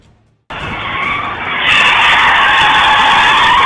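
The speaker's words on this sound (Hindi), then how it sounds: "हाईवे पर अचानक एक कार बेकाबू हुई और फिसलती हुई सड़क किनारे खड़ी गाड़ियों से टकरा गई।" A car skids out of control on a highway, sliding into vehicles parked at the roadside, with a loud sustained tire screech that begins abruptly and then swells and holds steady to the end.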